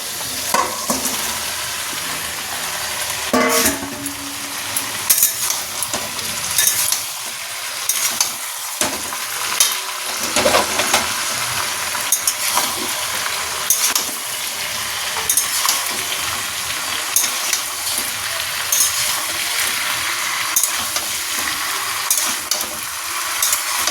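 Fried chicken pieces are stirred into a sizzling chilli chicken sauce with pepper in a pan, giving a steady close crackle and frying hiss with occasional spatula scrapes.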